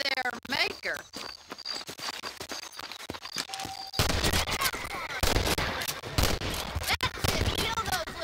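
Rifle shots and scattered gunfire in the Western video game Red Dead Redemption, sharp repeated cracks spread through the scene and growing denser and louder toward the end amid busy game noise.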